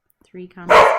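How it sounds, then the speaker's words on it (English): A dog gives a single loud, close bark right after a person speaks briefly indoors. "Sorry, that's my dog."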